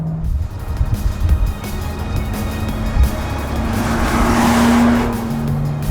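Engine drone and road roar fill a lightweight, raw enthusiast CS car's cabin, a steady loud rumble that swells toward the end with a rising tone, no voices present.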